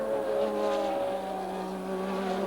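1982 Formula 1 cars racing at the Brazilian Grand Prix, engines holding a sustained high, droning whine with steady harmonic tones from a distance, no voices audible.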